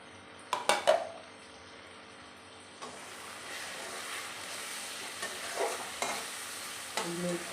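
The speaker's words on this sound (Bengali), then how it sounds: "এগুলো একটু ভালো করে নাড়চাড় করে ভেজে নিচ্ছি।" Ground Kashmiri chili, coriander, cumin and turmeric are stirred and fried in a pan with fried tomato and onion. A few sharp utensil clanks come first, then a steady soft sizzle with occasional scrapes.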